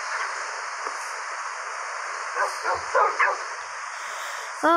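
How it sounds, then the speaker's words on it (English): Baby wolf pups in Minecraft let out a few soft, short yips and barks over a steady ambient hiss, ending with a brief louder whimper-like call near the close. "Oh, we have a lot of baby dogs."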